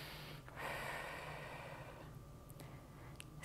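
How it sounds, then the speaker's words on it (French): Deep breaths taken during a foot-drop stretching exercise: a long, soft airy inhale and exhale, quiet and close, with no talking. "On prend des bonnes respirations."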